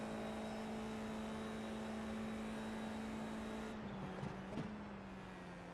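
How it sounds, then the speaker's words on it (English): Neighbor's snowplow clearing a driveway, a distant steady engine drone with a constant low hum that dips slightly in pitch near the end, heard alone and faint. "Neighbor's plowing his driveway."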